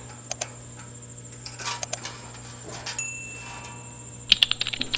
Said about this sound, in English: And let's take our ratchet alongside.